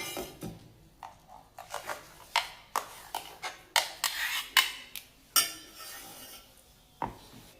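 Ground mango and coconut paste for mango pachadi is scraped into a bowl, giving a series of close, sharp clinks and scrapes of a spoon against the bowl and the grinder jar, spaced irregularly. No one speaks.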